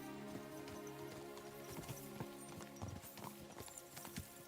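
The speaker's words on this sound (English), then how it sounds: "Look at those horses." Horse hooves clip-clopping in Kingdom Come Deliverance 2, set in medieval Bohemia: a quiet, continuous patter of hoofbeats from several horses with a faint whinny, no voices.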